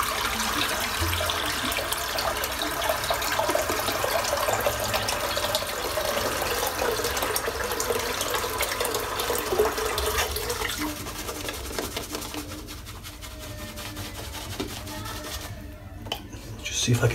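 Tap water runs steadily into a sink while lather is rinsed from a razor during a head shave, a continuous broadband rush that eases and thins toward the end with faint handling clatter.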